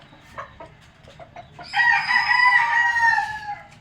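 A rooster crows once, long and loud and close by, after a few soft taps and clucks.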